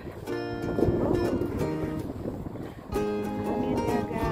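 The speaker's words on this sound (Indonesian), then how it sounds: "Bunyi anginnya kedengeran kenceng ya" Strong gusting wind buffets the microphone in a steady loud roar on a breezy day near water, with someone talking over it throughout and a brief lull before the gusts pick up again.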